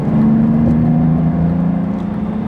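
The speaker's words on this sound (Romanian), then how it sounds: "În sarcină chiar se aude frumos motorul" Steady, loud diesel engine drone of a BMW E38 730d, with a deep low hum, sustained throughout while pulling under load, no voices.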